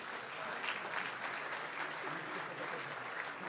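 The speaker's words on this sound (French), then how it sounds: "Sous vos applaudissements, s'il vous plaît." Audience applause at a young entrepreneur awards ceremony, a dense, even roar of many hands clapping together at moderate distance, with no break across the whole stretch.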